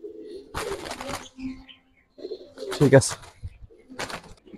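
Single male pigeons coo in a pigeon dealer's loft of racer and coloured breeds. The soft calls come in short bursts, close by, while people talk briefly nearby.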